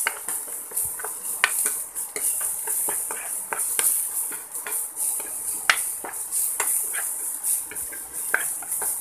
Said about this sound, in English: I have to saute the garlic now.